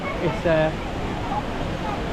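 A waterfall at Nikko, Japan gives off a constant rushing roar, steady and fairly loud beneath a voice speaking nearby.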